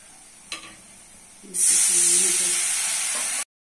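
Ground turmeric, cumin, coriander, chili and salt hit chopped onion in hot oil in a pan, a loud steady sizzle that begins after a faint knock and runs for about two seconds before cutting off abruptly.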